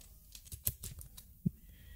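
Typing a folder name on a computer keyboard during a Premiere Pro export: a few quiet, scattered key clicks, close and faint, with no talk.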